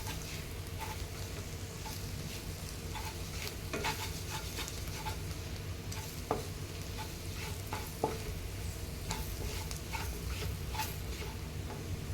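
Onions frying steadily in a pan, a continuous close sizzle with occasional scrapes and clicks of a stirring spoon, no voices.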